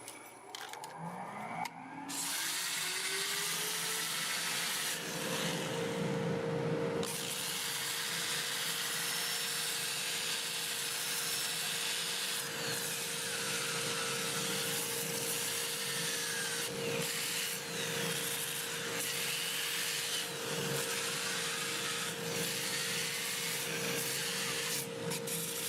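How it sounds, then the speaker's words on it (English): Sandpaper at 80 grit rubbing the inside of a black walnut bowl spinning forward on a lathe at about 400 RPM, a steady close abrasive hiss over the motor's constant hum, starting after a brief spin-up. "I'm going to go ahead and sand the inside."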